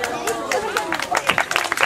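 Audience clapping at a live concert in Cenon, a short burst of scattered applause that builds in density, mixed with crowd murmur and a voice talking over it.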